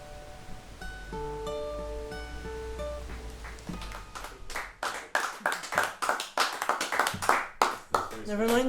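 Audience at a songwriters' collective performance breaks into clapping as a song's last sustained notes fade, the applause swelling from scattered claps into steady, fairly close hand claps.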